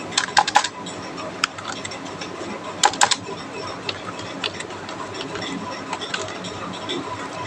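Typing on a computer keyboard comes in scattered clicks, with a few brief quick bursts of keystrokes over a low, steady background hum.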